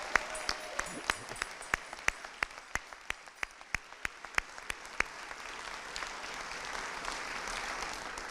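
An audience at a carol concert applauds, a few sharp, regular claps standing out up front before the clapping blends into a softer, steady wash.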